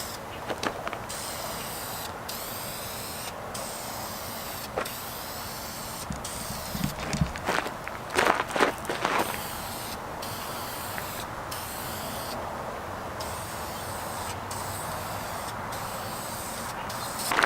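A VHT spray can hisses continuously up close as it lays a first coat of tint paint over car tail lights, the steady spray broken by a few brief pauses and clicks.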